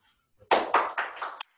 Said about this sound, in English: We have to clap.